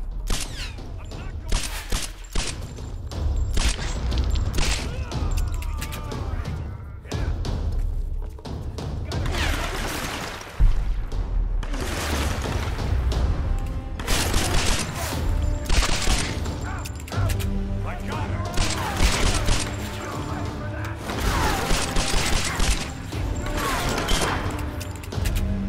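Gunfire in the video game Tomb Raider, dense bursts of rapid shots and heavy thuds crackling throughout a prolonged firefight, loud and close, with occasional faint voices underneath.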